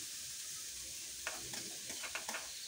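Meat being sautéed with chopped tomato and cauliflower pieces for a vegetable khichuri, with a soft, quiet sizzle and then a cluster of light stirring scrapes and taps toward the end.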